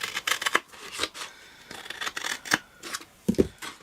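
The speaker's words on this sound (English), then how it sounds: "So cut that away." Scissors cut through cardstock for an Easter treat box, several crisp separate snips with short pauses between them and no voices.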